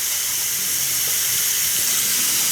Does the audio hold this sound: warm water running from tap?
yes